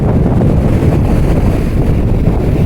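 Stormy sea waves surging onto Digha beach, heard as a loud, continuous roar heavily buffeted by wind noise on the microphone, with no distinct breaks between surges.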